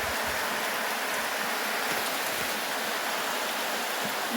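Heavy rain pours steadily over a farm field planted with soybeans, a dense, unbroken wash of hiss that stays loud and even throughout, with no voices.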